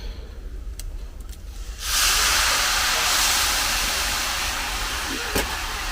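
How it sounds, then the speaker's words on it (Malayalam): Water poured into a hot pan after mustard seeds have popped, bursting into a loud sustained steam hiss after a quieter opening, with faint kitchen background and no talking. "വെള്ളം ഒഴിച്ചേക്കാം"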